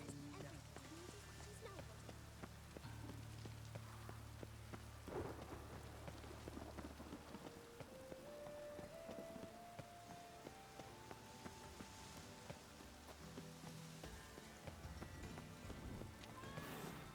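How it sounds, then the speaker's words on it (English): Steady rain falling in The Witcher 3, with low rumbling thunder, layered under game music and a voice talking. "Rain, I like rain."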